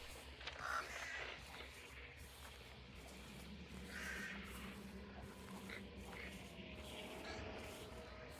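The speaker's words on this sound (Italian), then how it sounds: "Corvi." Crows caw a few times in a 19th-century Louisiana video game, short harsh calls over a steady low ambient bed, fairly quiet, with no talk.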